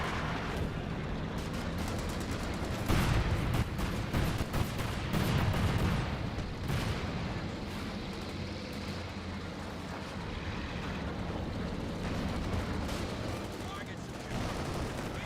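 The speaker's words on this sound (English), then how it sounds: "Got some butterfly bombs dropping on in." Butterfly bombs burst across a Company of Heroes 2 battlefield, a dense rumble of scattered explosions and gunfire rolling on steadily under a caster's talk.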